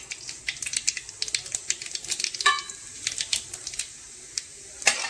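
Chana dal, urad dal and cumin frying in hot oil for rice rava upma crackle and pop in quick, uneven bursts, sharp spits standing out against a quiet background.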